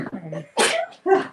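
A sharp sneeze bursts out, followed by a second similar burst, with a brief voice-like sound just before them.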